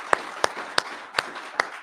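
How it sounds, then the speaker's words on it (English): Sparse, scattered clapping from a small audience at a poetry reading, five distinct claps spaced roughly evenly, close and moderately loud over a quiet room. "Let's have another round of applause."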